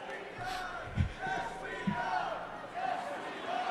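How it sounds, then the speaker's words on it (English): A large political rally crowd at the Republican National Convention chants in rhythmic bursts, a mass of voices swelling and fading with a few thumps, heard at a distance under commentary. "Oh no, there are more joining in on the yes we are chant."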